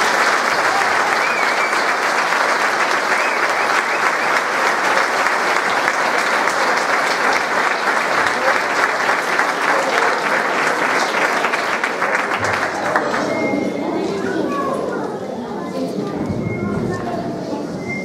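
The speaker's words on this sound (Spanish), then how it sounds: "Un fuerte aplauso." Sustained, loud applause from an audience at a diploma ceremony for collaborators, a thick crowd wash that carries on for most of the span and thins out toward the end.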